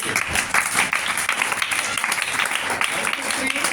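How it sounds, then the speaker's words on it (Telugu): NSS students at a college valedictory programme clap together in a dense burst of applause, with voices mixed in. "ఎన్ఎస్ఎస్ క్లాప్ వస్తాలే"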